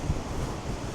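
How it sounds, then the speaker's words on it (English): Wind rumbles against a microphone near a beach, a short burst of low, loud buffeting with ocean-like noise and no voices. "very windy here"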